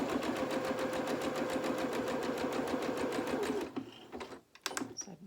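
A sewing machine stitches a denim jeans seam in a fast, steady run of needle strokes, then stops and gives a few short bursts and clicks as the work is adjusted.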